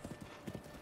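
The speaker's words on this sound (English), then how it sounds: "While I'm dramatically riding a horse" Horse hooves clip-clop softly as a horse is ridden in the video game Zelda: Breath of the Wild, a faint, steady rhythmic pattern of paired hoofbeats.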